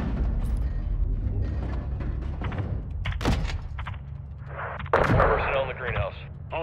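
An airstrike hits a building in Call of Duty: Modern Warfare 2, with heavy rumbling explosions and sharp blasts under radio chatter from soldiers.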